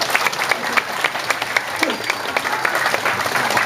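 Audience applause at a Balinese Bondres comedy performance, a crowd clapping steadily and fairly loudly with some voices mixed in.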